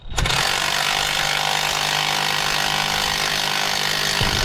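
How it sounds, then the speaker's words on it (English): An impact wrench tightens the harmonic balancer bolt on a 2007 Jeep Liberty, giving a loud, continuous, harsh rattling buzz that holds steady for about four seconds. "Put that on with the impact"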